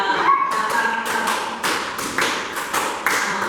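Two or three sharp hand claps in a quiet classroom setting, crisp and fairly close, spaced out over a few seconds with faint room tone between them.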